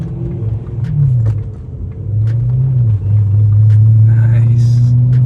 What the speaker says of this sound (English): setting off in the E90 M3 6-speed manual.